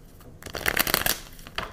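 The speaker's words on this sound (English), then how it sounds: "I want to shuffle two times" A quick riffle of tarot cards being shuffled, close and crisp, a short burst of flicking that trails off.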